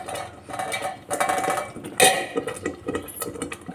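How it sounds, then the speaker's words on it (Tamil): A lid goes onto a cooking pot of tomato thokku, with metallic clanks and rattles of cookware, one sharp knock standing out amid lighter handling noise, close and without speech. "மூடி வச்சுருவோம்."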